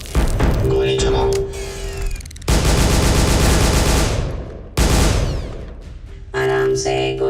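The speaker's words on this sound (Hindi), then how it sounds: "गोली चलाओ।" Gunfire in an action movie dubbed into Hindi, with bursts of rapid automatic shots and heavy blasts in several loud, separate volleys, interrupted by sudden silences, with voices between the bursts.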